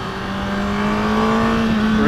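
A 2017 Honda Fireblade motorcycle with a quick shifter accelerates, its engine note climbing in one smooth, loud pull over about two seconds, heard close from the rider's position with no talk.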